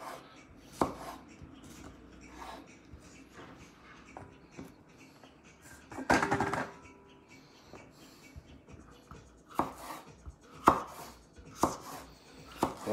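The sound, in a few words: chopping vegetables into slices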